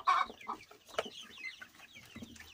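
Young chicks trying carrot for the first time give a few soft, close clucks and peeps in a short, quiet burst.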